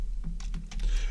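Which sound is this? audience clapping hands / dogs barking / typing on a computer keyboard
typing on a computer keyboard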